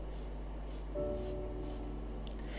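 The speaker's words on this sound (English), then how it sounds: "this was primed in Tamiya light grey primer from Spray Can." Tamiya light grey primer sprays from an aerosol can onto an Aoshima 1/24 Lamborghini Huracan Liberty Walk model kit inside a spray booth: short rhythmic hissing bursts over a steady low hum.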